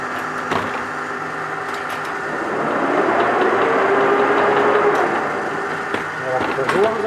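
A lathe turns a part in a garage workshop, a steady hum with cutting noise that swells in the middle, punctuated by a few sharp clicks and knocks, with some talk.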